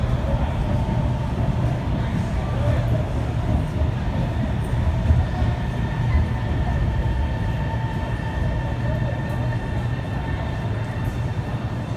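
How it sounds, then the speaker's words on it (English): A Guangzhou Metro train rumbles steadily into Zhujiang New Town station, a continuous low roar with faint metallic hum, loud and close throughout. "that train is coming"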